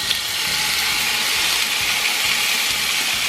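Shrimp sizzling in olive oil in a pan on medium heat, a steady bright hiss holding evenly throughout, close and fairly loud, with no talking.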